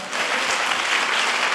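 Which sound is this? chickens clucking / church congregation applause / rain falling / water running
church congregation applause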